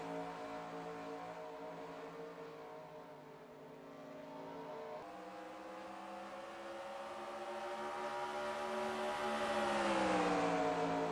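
Race cars roar past at Dover, a sustained layered engine drone with pitch sweeping upward as the pack approaches and grows louder, no voices over it.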